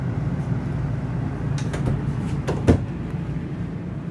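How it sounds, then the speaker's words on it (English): Drawers on self-closing slides in a 2024 Renegade Veracruz 30VRM 4X4 RV sliding shut, a couple of soft rolling slides ending in a firm thump, close by and without talk. "you got two nice drawers with self-closing slides."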